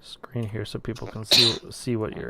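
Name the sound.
sneeze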